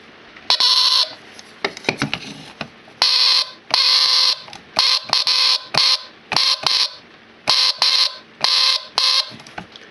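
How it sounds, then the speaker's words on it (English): A model 266 door stop alarm sounds shrill electronic beeping in repeated bursts, loud and close, stopping and starting irregularly with brief pauses between. "Does door alarm 266."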